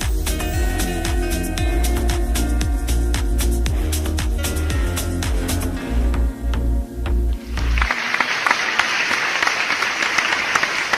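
After a song ends with rhythmic music, an audience breaks into loud, sustained applause for a singer, dense clapping filling the final few seconds.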